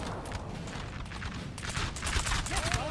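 Cannon and musket volleys from a Napoleonic Total War online battle crackle in dense, continuous bursts, growing louder toward the end with a distant rumbling boom underneath.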